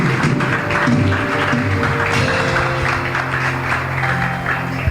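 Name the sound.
congregation applause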